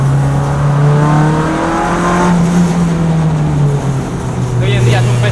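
A Renault Mégane Copa front-wheel-drive race car, weighing about 1000 kilos, drives on track with a loud, steady engine drone that shifts pitch gradually; someone speaks over the engine noise.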